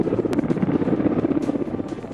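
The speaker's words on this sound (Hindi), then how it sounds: "आकाश रे लढ़ुआ हेलिकॉप्टर पैंतरा" A military helicopter manoeuvres overhead, a steady loud rotor drone with rhythmic blade pulsing and some wind, no voices.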